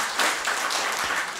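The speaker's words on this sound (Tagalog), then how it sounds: "Kaya isa muna pong malakas na palakpak po sa Panginoon." Church congregation applauding the Lord during a worship service, a steady broadband wash of many hands clapping at once, sustained and fairly loud throughout with no voices on top.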